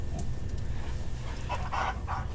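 Two pet dogs, Bella and Max, play nearby, giving a few short whimpering yips over a steady low background hum.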